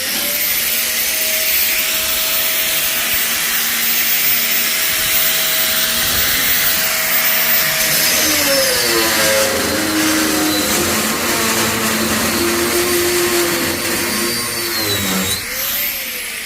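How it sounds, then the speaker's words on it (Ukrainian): An angle grinder running on DC power straight from solar panels, a loud, continuous high motor whine that holds steady and then wavers and shifts pitch as load comes and goes. "Дивіться, болгарочка. На постійному струм, дай навантаження їй десь щось різати."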